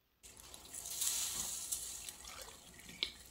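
Water splashes and sloshes as an octopus is plunged into boiling water, followed by bubbling and a small splash near the end, fairly quiet and close.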